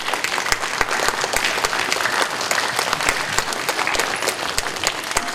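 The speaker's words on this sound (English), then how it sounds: "And a great round of applause is appropriate as well" An elementary school morning assembly audience applauding, a dense crowd of claps rolling steadily for several seconds, loud and close, with no talking over it.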